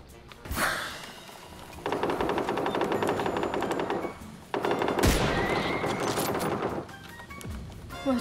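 Automatic gunfire rattles in PUBG, with two long sustained bursts of rapid shots separated by a short pause, loud and close, with sharp cracks at the start of each burst.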